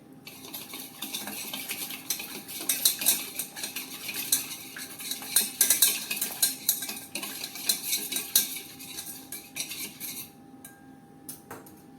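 Rapid, steady stirring and scraping of a spoon against a bowl, mixing gram flour batter with salt, turmeric and water close up, with brief pauses near the end.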